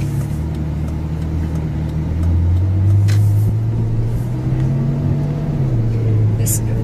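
A Lexus on a test drive cruises along smoothly. Its engine gives a steady, low hum heard from inside the cabin, swelling slightly partway through and then holding even.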